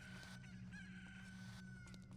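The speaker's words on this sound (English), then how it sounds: "there's a chicken in here apparently" A chicken in the Ocarina of Time game clucks and crows, a sustained, fairly loud fowl call running through a steady bed of game music and ambience.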